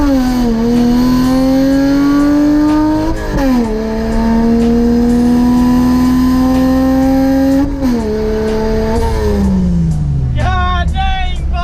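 A 1982 Toyota Celica Supra engine revs hard and accelerates through gears, loud rising whine with distinct shift drops, then eases off near the end as a voice speaks.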